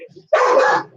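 Dogs barking at a cat, a single sharp, close bark lasting under half a second, with faint sounds just before it.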